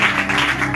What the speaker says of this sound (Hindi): आइए खुदा के लिए तालियां बजा दीजिए